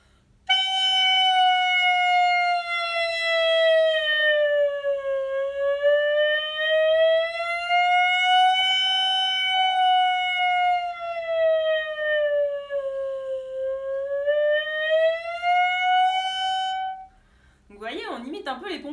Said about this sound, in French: Dites-moi si ça ressemble à une sirène.